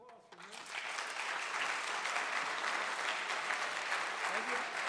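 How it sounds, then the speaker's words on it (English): An audience breaks into applause after a school presentation, the clapping swelling in after a brief voice and then holding dense and steady, heard from within the room. "one more round of applause for me."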